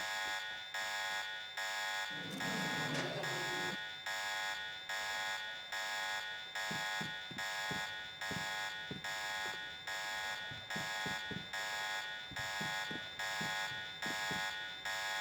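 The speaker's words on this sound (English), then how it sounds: "That alarm is fucking annoying." An alarm blares in the PC video game Deus Ex, a loud, harsh buzzing tone pulsing in a rapid steady rhythm throughout, with a brief low burst and scattered thuds and footsteps beneath it.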